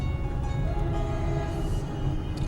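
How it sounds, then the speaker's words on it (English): A train passes nearby with a steady low rumble and rolling rail noise, a continuous loud wash of sound with a faint hiss, and no talk. "The train is beating us in this morning."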